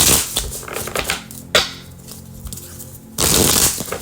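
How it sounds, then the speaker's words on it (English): Tarot cards being shuffled up close: rapid papery riffling and slapping, a pause with softer handling, then another burst of crisp riffling. "Wow, this deck doesn't want to shuffle."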